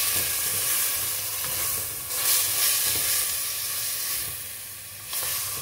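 Meat grilling in a hot pan with sweet pepper, a steady bright sizzle and hiss with slight swells as it's stirred, close and alone.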